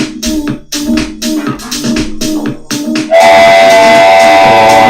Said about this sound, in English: That's the train leaving that station.